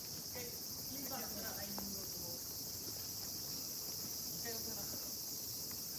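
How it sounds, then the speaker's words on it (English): A steady, dense insect chorus shrills through a night scene in Asakusa near Sensoji Temple in Tokyo, continuous and moderately loud, with faint distant city and voice sounds beneath it. "Oh, listen to the cicadas."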